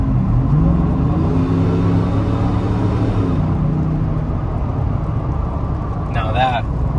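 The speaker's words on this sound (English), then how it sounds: "hear the nice Whipple and exhaust system" A 2025 Ford F-150 Black Widow with a Whipple supercharger and upgraded exhaust accelerates, a rising engine rumble with supercharger whine climbing in pitch, heard from inside the cab while a person talks.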